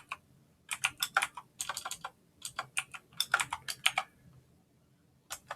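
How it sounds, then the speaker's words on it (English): Password typed on a computer keyboard, clusters of crisp close keystroke clicks in irregular quick bursts separated by short pauses, with no voices. "of course I have to type the right password"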